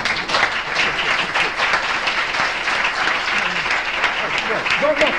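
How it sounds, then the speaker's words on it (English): Loud, dense audience applause after a lecture on home and radical evil, many hands clapping steadily and close for several seconds. "Don't applaud so much."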